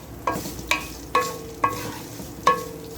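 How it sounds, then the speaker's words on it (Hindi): Garlic and coconut sizzling in a pan while a spoon scrapes and stirs in five sharp, evenly spaced strokes over a steady frying hiss. "ये देखिए लहसुन और नारियल हमारे फ्राई हो चुके हैं।"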